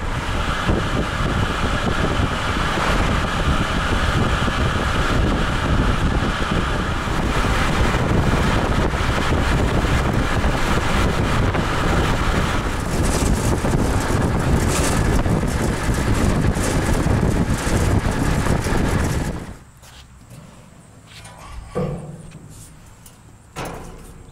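Motorcycle towing an eBay folding stand-up trailer, heard as a loud, steady roar of riding wind and engine buffeting for about twenty seconds before dropping abruptly to quiet.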